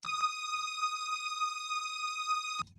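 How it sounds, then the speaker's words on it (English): A bright, buzzy wide saw-wave synth tone holds one high sustained note steadily for under three seconds, stopping abruptly with a soft thump at the end. "It's a very high pitched, wide saw wave, which sounds like this"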